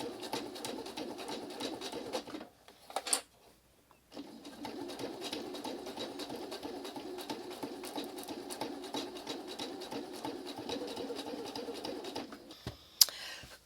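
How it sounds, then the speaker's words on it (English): A sewing machine stitches binding onto an autumn-themed art quilt, running in a steady fast hum, pausing briefly with a few clicks midway, then resuming until a final clunk. "And continue sewing."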